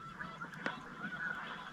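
Snow geese on spring migration honk repeatedly in the open air, a continuous overlapping chorus of calls from a large flock at middle distance.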